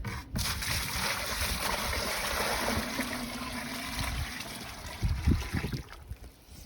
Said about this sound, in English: I'm gonna put my hot water in the bucket for the Color Stay